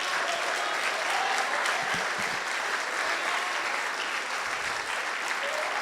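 A church congregation applauds in sustained, dense clapping that fills the room evenly, with faint voices mixed underneath.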